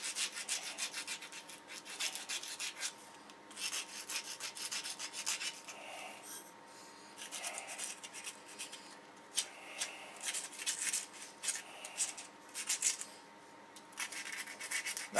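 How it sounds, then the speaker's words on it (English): Rhythmic scratchy sanding strokes rub back and forth inside an engine cylinder, close and steady, with short pauses between bursts. "so now the sanding goes down in the cylinder"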